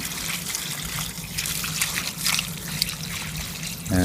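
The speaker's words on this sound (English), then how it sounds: "we're now just going to water them in" Water poured in a steady trickling flow over wasabi plants set among shingle, a continuous splashing dribble close by that runs for a few seconds, with a low hum underneath.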